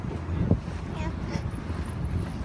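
A boat ride on Dubai Creek, with a steady low engine rumble and wind buffeting the microphone throughout, while people talk nearby.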